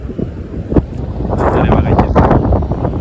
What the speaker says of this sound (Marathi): मस्त हवा सुटली आहे बघा.